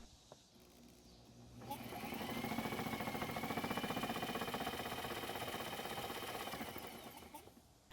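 A rusty John Deere lawn mower engine is spun by hand to test the ignition coil, giving a rapid, rhythmic mechanical whirring that swells for several seconds and then fades.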